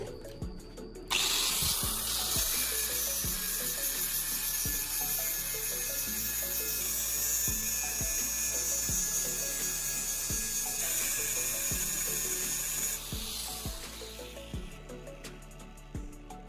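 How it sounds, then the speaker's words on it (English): A power grinder runs against the end of a thick threaded steel rod, giving a loud, sustained, high whine with shifting pitch for most of the span. It is close up, with faint ticking underneath and no speech. "grind down the end slightly."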